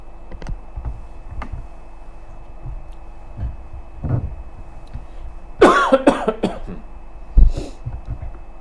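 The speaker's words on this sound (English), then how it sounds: "I just have this funny cough." A person coughs in a quiet room during a precalculus lesson, a few soft scattered coughs and clicks leading to a louder burst of coughing in the middle and one more sharp cough near the end.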